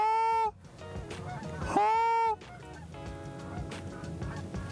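Geese honk loudly on a Montana goose hunt, with long, bright calls close by, probably from a goose call, followed by scattered honks and hunters' voices in the background.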